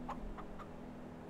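Chickens clucking on a farm in Farming Simulator 22, three soft short clucks over a faint steady hum, quiet and brief.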